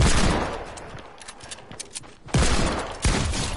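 Rapid gunfire from a shooting video game crackles in dense bursts, with a sharp volley at the start, scattered shots through the middle and two heavy blasts near the end, loud and close with no talking.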